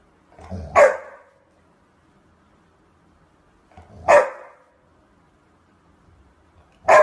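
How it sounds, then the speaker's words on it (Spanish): A small dog barks at its own reflection in a mirror, three sharp single barks spaced a few seconds apart, close and clear, with quiet in between. "El primer video que nos traen las redes sociales hoy es el de un perrito mirándose al espejo."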